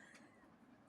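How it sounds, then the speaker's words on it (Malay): A single short, loud cough bursts out at the very end from someone who is ill, after near silence. "saya masih batuk-batuk"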